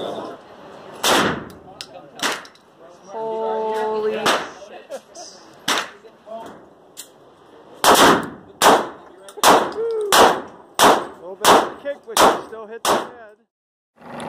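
Guns fire out in the countryside, with a string of loud, sharp reports at uneven intervals and a quicker cluster near the end. Voices talk between some of the shots.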